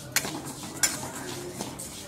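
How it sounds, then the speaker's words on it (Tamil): Cumin seeds roast in a pan at home for chilli powder, giving a few sharp crackles and small pops over a faint scraping, stirring background, close and fairly quiet. "சீரகம் லைட்டா பொரியற சவுண்ட் கேக்குற அளவுக்கு வறுத்துக்கங்க"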